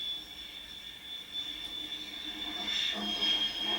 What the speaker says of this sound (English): This is a jet drone, top of the line.